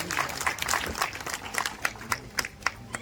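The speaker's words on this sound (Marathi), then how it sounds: "तुम्हाला विनंती आहे आपण टाळ्यांचा गजर करावा" Scattered applause at an award ceremony during a literary conference in Bhor, a soft, fairly distant patter that breaks into sparse individual claps toward the end.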